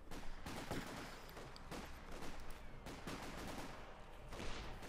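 Dense, continuous battlefield gunfire in Company of Heroes 2, with machine gun bursts and shots blending into a loud, unbroken wash of combat noise.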